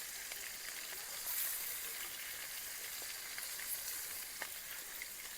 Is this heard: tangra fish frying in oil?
yes